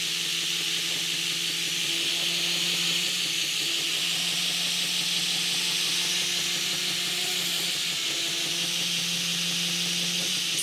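Belt grinder running a fine 120-grit abrasive belt for knife making, a steady loud hiss with a constant motor hum, unbroken from start to finish.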